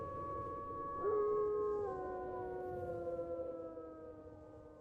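Wolves howl in a long, sustained chorus of wavering, overlapping tones that rise and slowly fall, fairly faint and alone with no talk.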